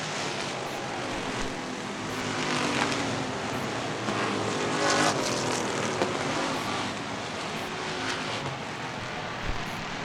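Dirt track cars in a Strictly Shootout racing side by side, their engines making a continuous roar that swells and fades a little as they pass, heard from a distance with no voices.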